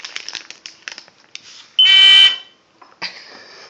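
A loud, shrill electronic buzzer wired into a squishy circuit blares for about half a second, then a fainter buzz follows, amid light rustling and handling noises.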